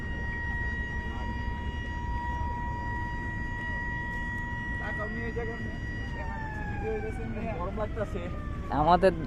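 A ferry launch horn at Mainot ghat on the Padma calls passengers with a long, steady tonal blast that holds, then shifts pitch partway through. Crowd noise and voices sit underneath, and a brief burst of talk comes near the end.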